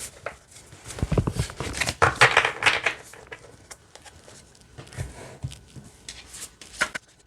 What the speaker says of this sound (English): But yeah, shuffling it this way, I don't really have a problem.